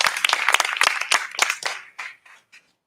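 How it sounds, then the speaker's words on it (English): Applause from a small audience at an intimate house concert starts as a dense burst of clapping. It thins into sparse, separate claps and dies away to silence within a few seconds. "can we just give both of them a big, huge round of applause for all the work that they do?"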